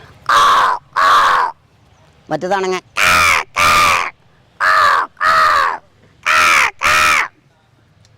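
Loud, harsh crow caws repeat in pairs close by, with a rapid burst of higher calls midway; a brief spoken word sits among them.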